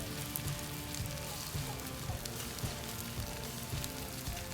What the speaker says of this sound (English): start grilling it and you get a nice caramelized color on the bottom of the bread.